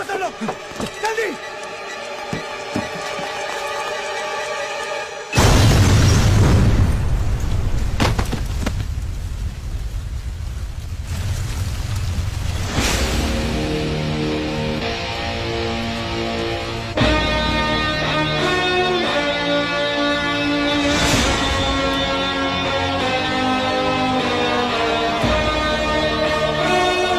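A loud bomb blast in a Bollywood action movie scene: a sudden heavy boom gives way to a long roaring, crackling rumble, with tense music and voices before and after.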